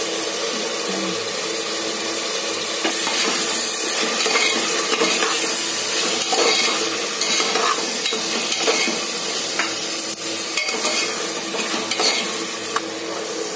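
Ginger-garlic paste and tomatoes fry in a pan for a biryani, giving a loud, constant sizzle with scrapes and clinks from stirring and no voices.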